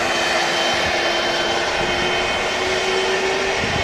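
Turkish Airlines Airbus A330 taxiing at Manchester Airport, its jet engines giving a continuous loud whine and roar with a sustained high-pitched wail, steady and unbroken from start to finish.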